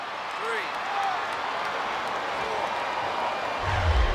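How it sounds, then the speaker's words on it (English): A video game arena crowd in WWE SmackDown vs Raw 2007 keeps up a steady, dense roar of cheering, with wrestling commentators talking over it throughout. "I think these superstars are getting some feedback from the crowd, JR."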